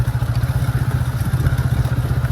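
Motorcycle riding along a rough, rutted road, its steady mid-range engine drone loud and close with a constant low throb and faint clatter of jolts throughout, no voices.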